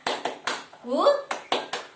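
Rhythmic group hand claps in a quick pattern from an Indonesian classroom clapping chant, with a shouted chorus of children's voices in the middle of the sequence, close and lively.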